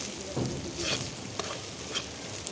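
Spice paste with ginger and garam masala frying in oil for a potato kosha curry, a dense continuous sizzle with occasional soft scrapes of a stirring spoon, close and steady, no speech.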